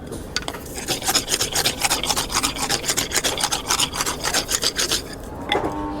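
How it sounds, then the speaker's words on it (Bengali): A bamboo flute being rubbed smooth by hand, a rapid run of dry rasping strokes repeating steadily at close range with no talk. "এটা কি ঘষে কিছু তুলে ফেলতেছেন"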